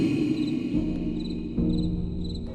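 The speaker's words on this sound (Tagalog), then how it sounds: "uni ng mga kuliglig ang maririnig sa buong paligid" Crickets chirp steadily in the background, a continuous high trilling with soft pulsing, alone without any voices.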